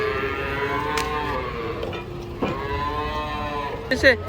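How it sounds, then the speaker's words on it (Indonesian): A cow moos loudly and close by, one long sustained low call filling the moment, with faint background noise and no speech. "Sebelah sini ada sapi unik guys."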